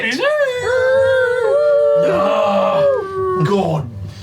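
Several human voices mimic a chorus of huskies howling, long wavering wails layered over one another, rising and falling in pitch for a few seconds, loud and close.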